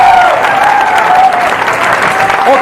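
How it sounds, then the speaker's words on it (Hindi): Loud, sustained crowd applause at a wellness plan seminar, the clapping thick and even throughout, with a faint tonal voice or whistle threading through it. "इनके लिए जोरदार तालियां"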